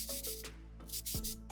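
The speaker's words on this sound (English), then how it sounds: "I get on with preparing the figure for painting by sanding off all those printed bits" Sandpaper scrubbing printed bits off a custom Funko Pop figure being prepped for paint, heard as quick, close rasping strokes in short repeated bursts.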